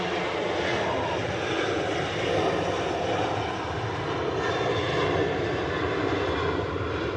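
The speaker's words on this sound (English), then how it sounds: "just pushing back from T2, the new pier at Terminal 2 is the Virgin Atlantic Airbus A350" A Virgin Atlantic Airbus A350 pushing back at the Terminal 2 pier at Manchester Airport gives off a continuous, even engine roar of moderate loudness, with no voices.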